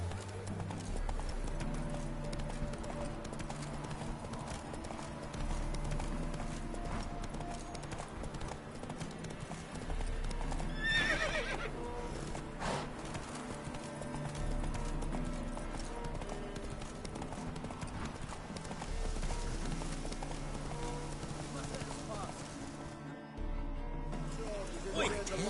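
Roach the horse clip-clopping along in The Witcher 3 on PS4 Pro, steady rhythmic hoofbeats under a continuous music score, with a voice speaking briefly.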